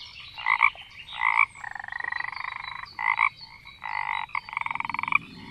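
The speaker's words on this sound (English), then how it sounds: "F for frog." Frog croaking in a series of rasping, pulsing calls, several short bursts followed by longer trilled croaks, fairly close and steady over a low background hum with no voices.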